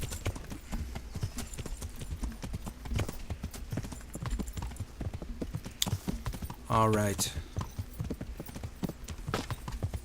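Rapid, steady clip-clop of horse hooves trotting up close in the video game Kingdom Come: Deliverance, with a brief spoken word partway through.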